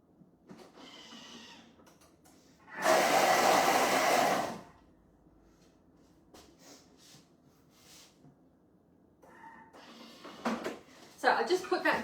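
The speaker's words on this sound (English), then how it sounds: "we're going to put that back into the Thermomix and give it a quick whiz" A Thermomix spins gluten-free brioche dough at high speed in a loud, steady whirring burst of about two seconds, framed by kitchen handling noises and someone talking before and after.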